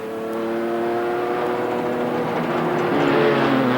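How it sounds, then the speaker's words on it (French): Euromotrice rally buggy with a Renault engine revs loudly and steadily, its pitch climbing gradually over a few seconds, close and without voices. "au volant de son dernier né, le buggy d'Euromotrice à moteur Renault"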